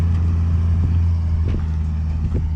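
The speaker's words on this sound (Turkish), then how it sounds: "eski kamyonlardan bu da. 83 model." Old 1983 model truck engine idling, a steady loud low rumble with faint periodic knocks and no voices.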